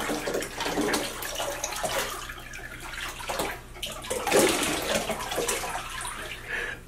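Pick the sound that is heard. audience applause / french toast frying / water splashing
water splashing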